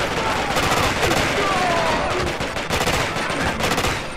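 Dense gunfire rattles through the Quantum of Solace video game during an airport fight. Rapid automatic bursts and single shots overlap continuously, loud and close, with voices faintly mixed in.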